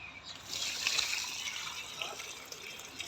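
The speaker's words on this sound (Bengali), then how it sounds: "জল ভরতেছে" Water runs steadily from a tap into a container on a rooftop garden, a continuous bright trickling fill that stays even throughout, with no talk over it.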